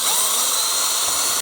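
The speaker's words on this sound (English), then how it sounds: "in the first place going through with a small drill bit" A small drill bit bores a pilot hole through a plastic turntable part for a Bruder CAT excavator model, giving a steady, close, high-pitched whine that runs continuously and cuts off at the end.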